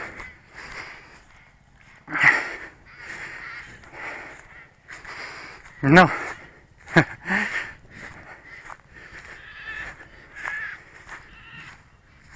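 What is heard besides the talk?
crows cawing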